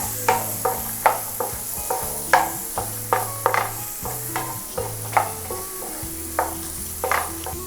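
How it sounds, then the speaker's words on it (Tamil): Chopped onions stirred in a hot pan for a mushroom sauce, with a steady frying sizzle underneath and about a dozen sharp scraping strokes of the spoon every half second or so, up close and with no voices. "வெட்டி வச்சுருந்த வெங்காயத்தையும் போட்டுருவோம். போட்டுட்டு ஒரு வாட்டி நல்லா மிக்ஸ் பண்ணி விட்டுக்கோங்க."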